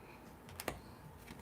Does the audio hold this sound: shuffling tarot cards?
yes